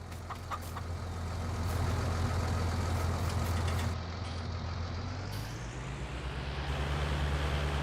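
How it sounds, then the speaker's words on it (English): A quiet tractor engine idles steadily outdoors in a park, a low continuous rumble with a slight shift in pitch partway through and faint clicks and rattles above it. "this is quite a quiet tractor"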